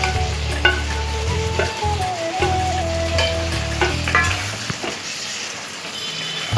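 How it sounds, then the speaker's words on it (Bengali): Potatoes and soya chunks fry and sizzle in a pan while being stirred, with steady loud sizzling and occasional scraping and clinking of the spoon against the pan throughout. "আলু আর সোয়াবিনটা দিয়ে ভালো করে কষাবো।"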